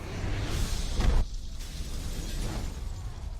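A sudden fiery explosion in a horror film, a loud burst that cuts off abruptly after about a second, followed by lower rumbling debris and ambient movement.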